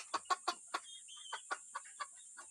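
A chicken clucks in a steady series of short, sharp clucks, close by, with a faint high hiss in the background.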